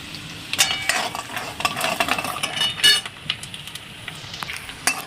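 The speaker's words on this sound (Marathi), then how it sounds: "इथे मी ठेवलंय तवा त्यामध्ये कस्तुरी मेथी गरम करायला ठेवायचे" Dried kasuri methi warming on a tawa as it is stirred, with irregular scraping and light clinking strokes over a faint sizzle.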